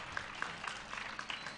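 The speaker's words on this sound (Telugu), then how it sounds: "గట్టిగా ఒకసారి కరతాళ ధ్వనులతో" An audience applauds for a lecture on Bhaja Govindam, giving a short burst of soft, even clapping that sounds fairly distant and lasts under two seconds.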